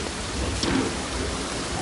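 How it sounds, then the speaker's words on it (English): Steady rain pours in the Don't Starve video game, a constant dense hiss of drops with a soft low thunder rumble rolling underneath, no voices present. "We have rain putting out our fire."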